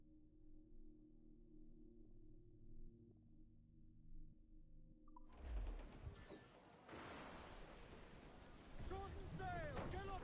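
Storm at sea in the Assassin's Creed IV Black Flag video game: steady rushing wind and waves around a sailing ship, starting after a quiet tonal passage and continuing as a sustained roar.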